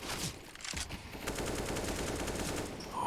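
Rapid bursts of M4A1-S rifle gunfire in a Counter-Strike: Global Offensive esports match, dense and continuous with overlapping shots from a busy firefight.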